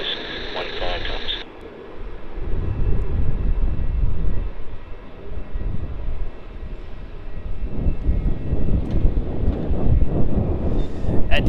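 A Boeing 717 at Melbourne Airport roaring past with a loud, steady broadband engine rush that swells and rumbles, preceded by a brief tinny radio voice at the start.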